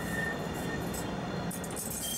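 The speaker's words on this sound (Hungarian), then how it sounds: "Tűzijáték mellett kolompolva gördült ki az első francia gyártmányú szerelvény Dubáj egyik" A French-made tram rolls out of a city-centre stop in Dubai, its wheels and motors giving a steady low rumble with faint squealing, heard at moderate distance without talk.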